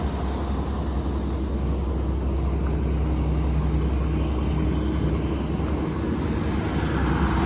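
Claas Dominator 68 combine harvester engine running steadily at close range, a dense continuous low rumble with a broad mechanical roar and no speech.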